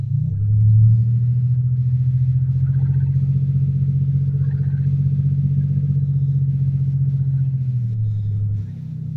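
A 1993 Chevy Lumina's 3.1 engine idles loudly through a broken exhaust, giving a deep, continuous rumbling drone that swells slightly near the start and holds steady for several seconds before easing off, with no voices.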